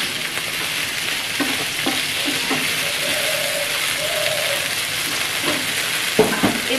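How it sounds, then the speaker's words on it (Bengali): Paneer being stirred in hot oil, with a steady bright sizzle throughout and soft scraping stir strokes over it, close and fairly loud, no talking. "এই তেলটার মধ্যে জাস্ট পনিরটা একটু নাড়িয়ে নেব"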